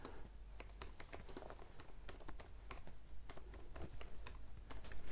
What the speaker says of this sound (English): as soon as it will let me type I'll start typing